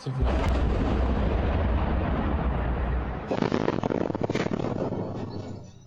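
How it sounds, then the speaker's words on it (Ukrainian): A sustained, heavy rumbling roar of distant blasts from a Shahed drone attack on a city, followed by a sharper burst of crackling booms and bangs toward the end. "У місті лунають перші вибухи."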